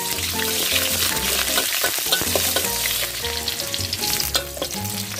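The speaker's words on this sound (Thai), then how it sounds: "พี่ปูจะใส่กระเทียมเจียวลงไปเลย" Cabbage stir-frying in plenty of oil with fried garlic added, a loud continuous sizzle and crackle with clattering stirring throughout, no talking.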